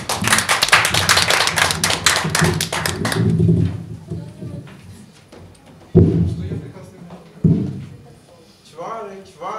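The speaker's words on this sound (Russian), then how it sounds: "Я думаю, мы поддержим его аплодисментами." Audience applause at a 2013 stage event, dense clapping for about three seconds that thins out and gives way to talking, with a few louder thumps after.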